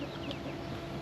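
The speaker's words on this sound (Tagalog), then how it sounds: "At dito na po yung mga manok" Chickens in a backyard garden in Taiwan, clucking softly in short scattered calls over a low background hum, with no voices.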